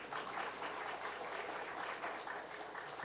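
A church congregation breaking into steady applause at a church anniversary service, a dense even patter of many hands clapping, moderately distant and fairly soft, with no speech over it.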